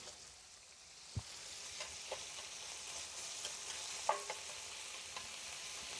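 Meat browning in a pan for shepherd's pie gives off a soft, steady sizzle and crackle, with a few faint clinks and pops scattered through it.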